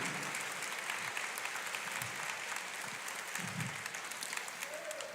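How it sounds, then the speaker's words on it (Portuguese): Church congregation applauding during a sermon, a distant, even wash of clapping that holds steady, with a few low voice-like murmurs surfacing underneath. "Aplauda mais, glorifique"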